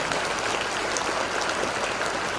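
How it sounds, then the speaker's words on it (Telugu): Audience applause for a student at a public event, dense and steady throughout, a continuous wash of many hands clapping at close to moderate distance with no voices over it. "సరే ఆ అమ్మాయికి మరొకసారి గట్టి క్లాప్స్ కొట్టండి"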